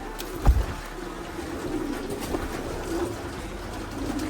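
Pigeons in a cage give soft, low cooing calls at moderate distance, with one brief louder thump near the start and steady background noise throughout.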